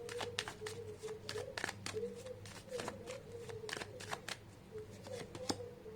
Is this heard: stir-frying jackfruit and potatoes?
no